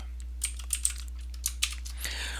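Typing on a computer keyboard while entering an Excel formula, a few scattered close key clicks over a low steady hum, with a brief rustle at the end.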